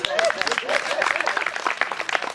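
Dense, continuous clapping from a church congregation at a Sunday service, with voices mixed in underneath.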